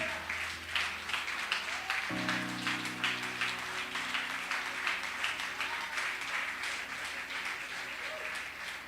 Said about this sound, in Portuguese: Você poderia ficar de pé e aplaudir a Jesus?